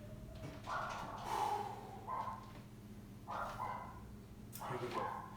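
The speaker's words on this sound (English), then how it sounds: "Sorry about the dogs." Dogs bark and yip indoors in several separate bursts, muffled and somewhat distant, with a low steady background hum.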